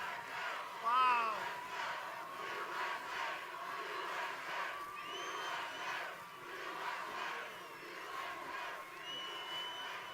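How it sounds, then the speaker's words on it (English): A large outdoor political rally crowd in Bullhead City, Arizona cheers and yells continuously, a distant roaring wash of voices with a brief louder whoop near the start. "This is quite a crowd"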